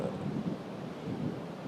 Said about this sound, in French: Je sais pas si vous m'entendez bien avec le vent